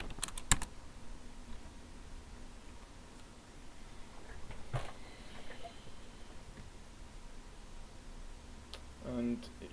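Computer keyboard typing, soft and fairly distant, with scattered light key clicks over a steady background hiss.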